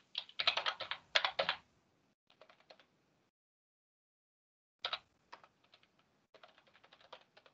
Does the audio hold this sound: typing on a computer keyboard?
yes